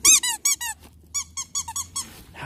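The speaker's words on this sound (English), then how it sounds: "How does a tiger react to a squeaky toy?" A squeaky toy squeezed near a tiger gives a burst of four rapid high squeaks, a pause, then a longer run of quick squeaks, loud and close against a low background hum.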